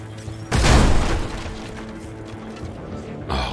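An explosion in the video game Mutant Year Zero: Road to Eden bursts out as a loud, full-bodied boom that fades slowly into a rumbling tail.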